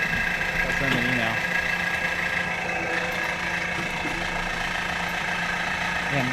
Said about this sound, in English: famous compressor. Going to town.